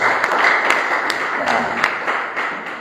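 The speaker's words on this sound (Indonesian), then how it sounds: "Mari beri tepuk tangan dulu yang terbaik buat Tuhan Yesus." A church congregation claps for Jesus during a sermon, a short burst of dense applause with a few sharper individual claps and some speech beneath.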